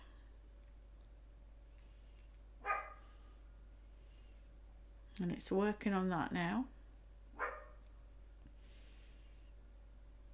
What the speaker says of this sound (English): You can hear the dog next door barking.